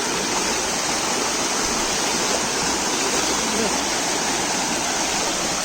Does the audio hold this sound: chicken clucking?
no